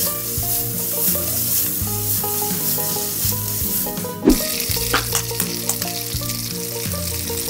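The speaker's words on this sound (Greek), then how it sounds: "Θα ανακατεύουμε λίγο αυτό για να μην κολλήσει." Carbonara sizzles loudly in a hot pan while being stirred, a constant frying hiss with a sharp scrape or clank near the middle followed by quicker spattering pops, with a musical background underneath.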